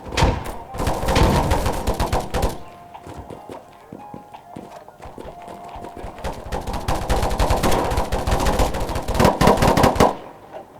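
Rapid bursts of enemy gunfire in a shooter video game, loud and close, firing in dense volleys with a brief lull in the middle before the shooting resumes and continues to the end.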